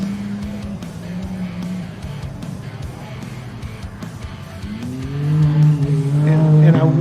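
Can-Am UTV race cars roar through a desert turn at a grudge match race, engines droning loudly throughout and rising as the cars close in near the end, with a commentator talking over the racket.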